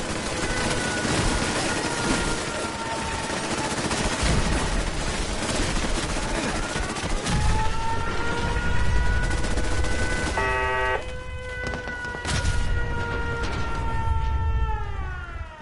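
Defensive turrets fire in Fallout 4 in a dense, continuous barrage of rapid gunfire. Wavering siren-like whines and an electronic stuttering beep rise over the shooting.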